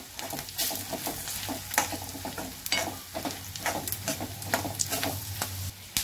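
Roasted chana dal fries in oil with turmeric for a flattened-rice snack, a soft crackling sizzle with irregular popping and stirring clicks, fairly quiet and close.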